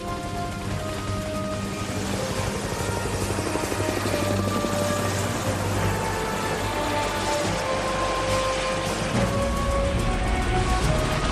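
A helicopter drones steadily overhead, its rotor chop and engine whine loud and continuous throughout, with no voices.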